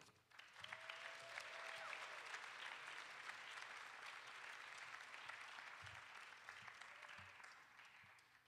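An audience applauds to welcome a speaker at a talk, steady clapping that swells quickly and holds for several seconds before starting to fade.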